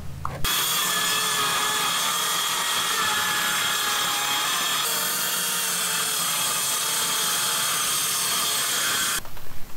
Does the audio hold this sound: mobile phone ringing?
no